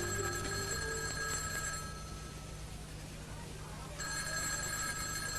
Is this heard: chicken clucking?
no